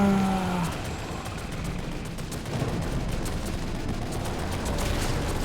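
Gunfire in the survival horror video game The Evil Within, a run of sharp shots crackling over a dense, noisy game soundscape, fairly loud and continuous with no voices.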